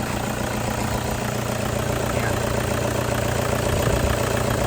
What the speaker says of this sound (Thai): เสียงเครื่องดังนิ่มมากนะครับ